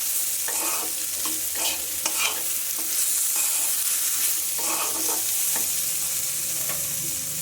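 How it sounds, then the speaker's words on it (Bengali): Ground spices, mixed with salt, being stirred and fried in a pan for a Bengali fish curry, giving a steady close sizzle with repeated scraping strokes of a spatula and no voices. "এগুলো এবারে একটু কষে নেবো।"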